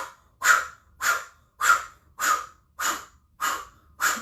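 Forceful rhythmic yoga breathing during a Kundalini session: seven sharp, loud exhalations through the nose or mouth, evenly spaced about every 0.6 seconds, each a breathy rush with quiet inhales between.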